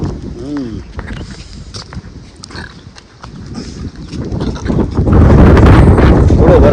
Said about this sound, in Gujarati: જો પવન કેટલો ચાલે છે અત્યારે